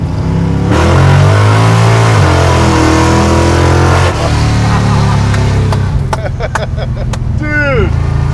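A 700 hp Dodge Coronet 440 Hemi old-school Mopar drag car with open exhaust rumbles loudly and revs, its deep engine note rising and falling close by, with voices talking over it.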